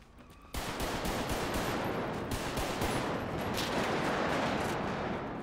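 Sustained rapid gunfire in a GTA RP video game, a dense continuous barrage starting abruptly and holding loud and steady for several seconds, with no talk over it.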